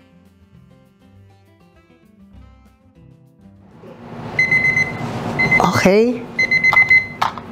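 A kitchen timer rings after ten minutes of cooking sweet potato and banana, a bright repeated electronic beeping that starts midway and pulses on to the end, with a person speaking briefly over it.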